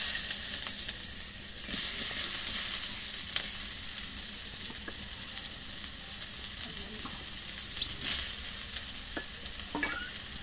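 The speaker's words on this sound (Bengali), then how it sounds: "কড়াইয়ের মধ্যে পেঁয়াজটা দিলাম।" Onions frying in oil in a wok at home, giving a steady, close sizzle with occasional scraping stirs and clicks over about ten seconds, with no talk.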